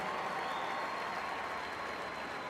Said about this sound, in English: how about another round of applause for the Westlake High School Marching Band?